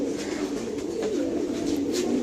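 A Bagha Silver Line pigeon coos steadily in low, throaty rolls, close by and alone, the soft murmur continuing without pause.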